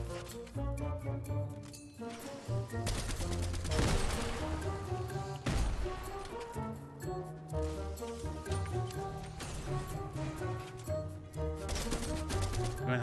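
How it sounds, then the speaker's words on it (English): Bursts of gunfire in the video game Fortnite at Tilted Towers, sharp shots cutting through loud, continuous game music throughout. "Hear gunshots."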